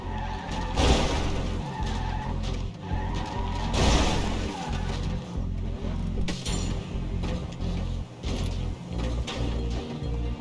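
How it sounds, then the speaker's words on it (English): A car engine roars and tires skid and screech in a fast, busy car chase in Grand Theft Auto V, with loud bursts of sliding and revving throughout. "I ended up in a motherfucking car chase."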